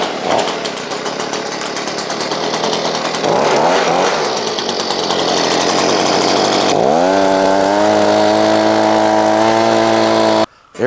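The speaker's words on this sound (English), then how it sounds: "Next step, leaf blower." A two-stroke leaf blower roars loud and close while blowing old hay and chaff out of a hay baler, its engine revving up to a steady high whine before cutting off abruptly at the end.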